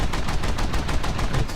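Valentine turret guns on a warship in a naval combat game fire in a rapid, steady rhythm of loud, close bursts, round after round for the whole stretch with no talk.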